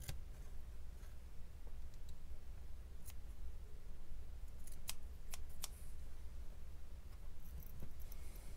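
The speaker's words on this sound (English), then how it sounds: "I'll just cut a little bit on the end." Scissors trimming the end of vape cotton, a few sharp, close snips scattered over a low background rumble.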